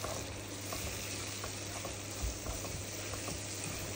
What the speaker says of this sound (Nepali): यो पिसेको मसलालाई पनि त्यसमा हालेर अलिकति चलाइदिन्छु